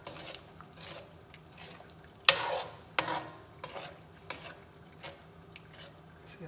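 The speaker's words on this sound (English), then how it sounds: "Give it a good stir." Crawfish sauce stirred in a pot: soft wet swishes and scrapes of a spoon recurring in an uneven rhythm, with a couple of sharper knocks against the pot, close and fairly quiet.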